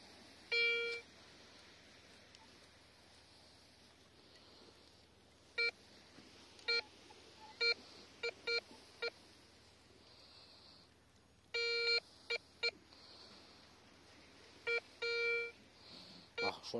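A metal detector sweeps a beach, giving a series of short, faint electronic beeps and tone bursts in irregular clusters over quiet background hiss.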